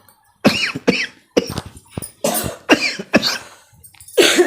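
Several people cough in short harsh bursts, close and loud, irritated by smoke from burnt homemade popcorn, about eight fits spread over a few seconds with no talking.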